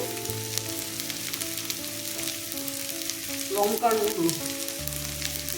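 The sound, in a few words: tomato and spices frying in pan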